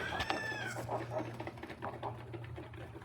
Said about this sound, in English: this big rooster, we're going to be getting rid of him